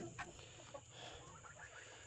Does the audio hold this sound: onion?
no